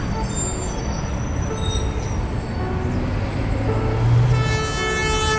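A local Cibatu commuter train sounds a long, loud horn blast near the end, rising over the steady low rumble of the train running close by.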